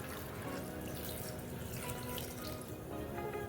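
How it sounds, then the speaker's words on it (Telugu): Water from a large glass pours into a pressure cooker holding mango dal with turmeric and curry leaves, a steady splashing rush that runs the whole time with nobody talking. "ఒక పెద్ద గ్లాసెడు నీళ్లు."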